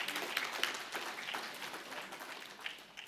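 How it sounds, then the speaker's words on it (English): Applause for the chief guest at the inaugural session of an economic forum, a fairly faint, steady wash of clapping from a seated audience lasting a few seconds with no voices over it. "Let's give him a big round of applause"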